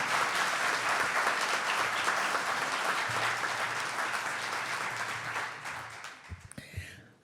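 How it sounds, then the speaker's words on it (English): Audience applause at a State of the City event, a full steady wash of clapping that gradually thins and tapers off at the end into a few scattered claps and handling noises. "Let's give them a round of applause"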